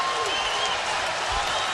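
Boxing crowd at the end of a David Tua fight, broadband applause and crowd noise steady through a short stretch, with a commentator talking over it.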